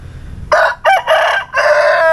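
A Talisay rooster crows loudly and close by, one call broken into several strong bursts over about a second and a half, with a low rumble underneath before it starts.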